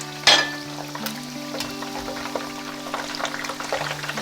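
Pork pieces for guo bao rou deep-frying in hot oil, a steady close crackling sizzle with a brief scraping stir near the start and a faint low hum running underneath.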